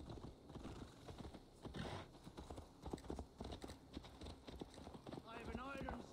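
A horse's hooves clip-clop at a steady walking pace in Assassin's Creed Valhalla, heard under someone talking, with a short whinny near the end.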